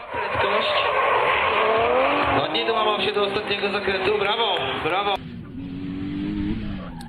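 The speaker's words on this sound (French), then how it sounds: "Voici Maciej Bochenek, une S13 motorisée par un moteur RB." A Nissan S13 drift car powered by an RB engine screams loudly at high revs with tire squeal, engine pitch climbing and dropping through shifts, then cuts off and fades to a quieter, more distant engine drone; commentary runs over it.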